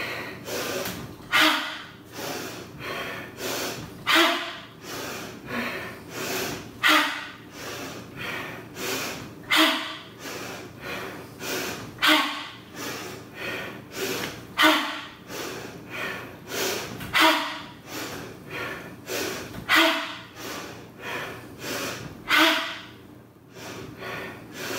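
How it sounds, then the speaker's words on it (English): Forceful mouth exhalations during a power vinyasa yoga flow, about a dozen sharp breathy puffs in a steady rhythm of roughly two seconds, each preceded by an inhale, close and loud with no talk. "We're taking an exhalation out through the mouth as we bend forward."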